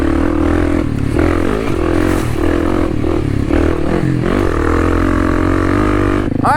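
A Kawasaki KLX300 dirt bike ridden on a muddy track roars loud and close, its engine running continuously with rising and falling revs and a sharper burst at the very end.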